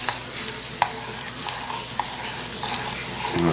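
Silicone and corn starch slowly stirred together in a container, soft continuous scraping and wet mixing with a few sharp clicks of the tool against the sides, close and fairly quiet.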